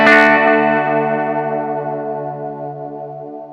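One strummed electric guitar chord through an Xvive Echoman pedal with chorus vibrato on, ringing out with a wavering, shimmering pitch as it slowly decays, close and alone.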